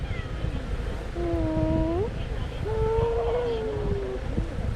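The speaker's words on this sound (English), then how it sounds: "You're a cat that likes attention?" A cat meows twice for attention, two drawn-out rising calls over a steady low rumble of background noise, with no talking.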